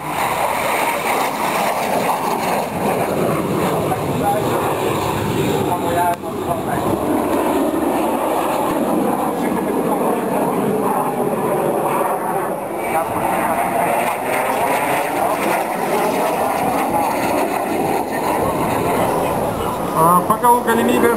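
An L-39ZA military jet at an aviation show gives a loud, steady roar for the whole stretch, and its tone sweeps slowly up and down as the aircraft passes.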